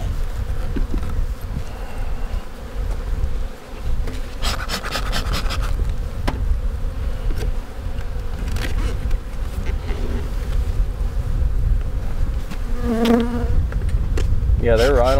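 Honeybees buzz steadily and close up in an open hive ahead of a split to prevent swarming, a dense continuous hum with individual bees whining past near the end.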